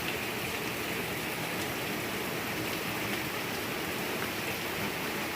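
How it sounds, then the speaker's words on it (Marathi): Heavy morning monsoon rain pours down steadily, a dense, even hiss of countless drops on surfaces that holds at a constant level throughout, with no voices. "पाऊस बघा कसा मस्त पडतोय"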